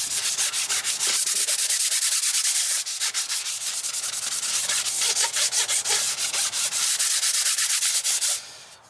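Sandpaper of 400 grit rubbing steadily back and forth over an interior trim panel, a close, continuous scratchy hiss with quick repeated strokes that stops abruptly near the end.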